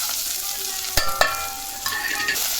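Crushed garlic, dried red chillies, mustard and a little onion tempering in hot oil, with a bright crackling sizzle and a few sharp pops as the ingredients hit the pan, up close.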